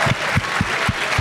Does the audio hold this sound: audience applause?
yes